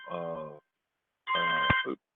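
A mobile phone rings twice with an electronic ring tone, close and fairly loud, the two bursts separated by a short silence.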